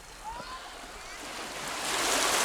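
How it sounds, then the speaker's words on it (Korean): Rough, wind-driven waves surge over a beach of large round pebbles, a broad hissing wash that swells louder toward the end with no talk. "거친 파도는 바람에 힘을 등에 업고 몽돌들을 사정없이 어루만진다."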